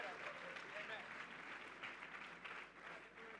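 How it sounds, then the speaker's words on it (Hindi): A church congregation at a Sunday service applauds with steady, moderately dense clapping from many hands, somewhat distant, with voices mixed in. "परमेश्वर को धन्यवाद दीजिए तालियों के साथ."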